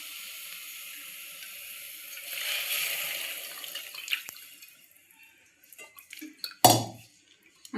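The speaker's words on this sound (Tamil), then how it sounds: "இப்போ நம்ம புளி தண்ணி வடிகட்டி ஊற்றிக்கலாம்." Strained tamarind water is poured into a pan for a seer fish curry: a soft, steady liquid pour swells and fades, followed by a few scattered clinks and a sharp utensil knock near the end.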